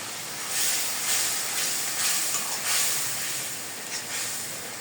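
Masala spice paste sizzles hard in a hot pan while being fried for a meat curry, a steady, close, broadband hiss that swells and eases slightly throughout, with no voices.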